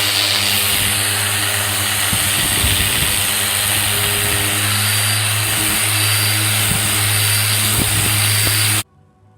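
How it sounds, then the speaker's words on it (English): A power sander works steadily around the glued, rough drop edges of a new seamless countertop, a loud continuous whirring drone with a low hum that runs unbroken for several seconds and then cuts off abruptly. "going to go around the edges where the drop edge is, and I'm going to sand it smooth"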